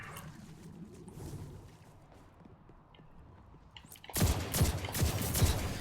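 Jade Rabbit rifle in Destiny 2 firing a quick series of loud, punchy shots near the end, after a quieter stretch of faint ambient game noise and footsteps.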